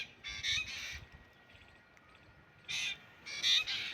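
Crow-like birds call outdoors in a rural setting, giving a few short bursts of harsh cawing: a pair of calls early, then two more clusters near the end, at moderate distance over quiet background, with no voices.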